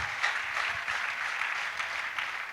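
A church congregation breaks into steady, dense applause, many hands clapping together at moderate distance for the whole stretch with no voices over it.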